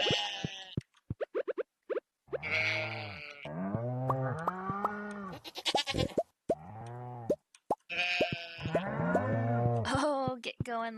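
Farm animals in the Stardew Valley video game call out in a quick series of cartoonish bleats and moo-like cries, mixed with short plops and boings from game effects, all loud and close with no talking.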